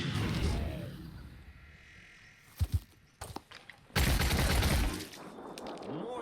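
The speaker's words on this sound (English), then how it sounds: "that was a nasty return fire" Return fire in the tactical game Phoenix Point, heard as scattered sharp gunshots followed by a sustained loud volley, among quieter ambient game sounds.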